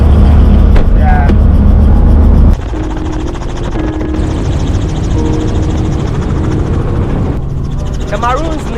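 Loud helicopter rotor and engine roar in Suriname, heavy at first then dropping to a steadier cabin drone, with people talking over it and brief tonal chirps.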